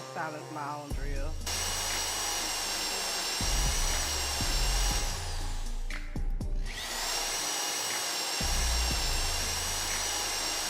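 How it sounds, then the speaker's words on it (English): Loud mechanical drilling into rock in a video game, a steady harsh whine with low thumping bursts running through most of the stretch, briefly dipping midway before resuming. "So what you do is you drill this rock."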